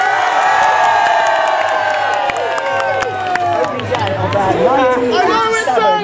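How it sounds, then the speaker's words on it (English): A crowd at an amusement park opening show claps, stamps and shouts loudly, a dense roar of cheering voices and children's screams with scattered claps throughout. "I want to hear you clap. I want to hear you stamp your feet. I want to hear you scream and shout as loud as you can, really."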